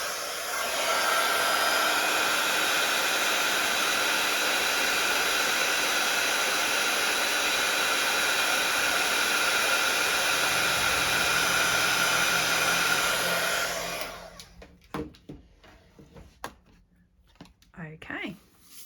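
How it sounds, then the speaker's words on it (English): A craft heat tool blows steadily for about fourteen seconds while heat-setting embossing powder on a card, a loud continuous hairdryer-like whoosh that then cuts off, leaving quiet handling noises. "I'm just going to grab my heat tool and heat set that."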